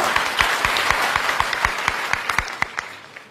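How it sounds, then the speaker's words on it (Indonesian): A church congregation applauds the praise and worship team, several seconds of dense clapping with distinct individual hand claps popping out near the front, fading slightly toward the end. "Boleh tepuk tangan buat tim praise and worship kita."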